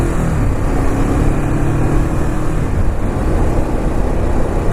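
A Ducati Monster 821 motorcycle being ridden, its engine giving a steady, continuous drone mixed with rushing wind noise throughout, with no voices.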